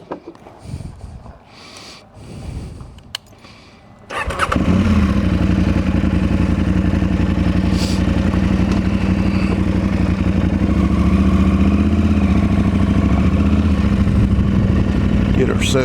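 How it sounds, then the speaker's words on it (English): A car drives along a rural road toward the listener, starting as quiet rumble under voices and then swelling after about four seconds into a loud, steady engine and tire roar. "I hear a car coming."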